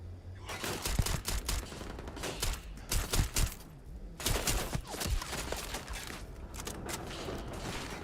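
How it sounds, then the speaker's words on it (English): An enemy ship fires rapid volleys at the player's ship during space combat in the video game Starfield, making dense, crackling bursts of gunfire with brief pauses between them and heavy thumps mixed in. "He's shooting at me."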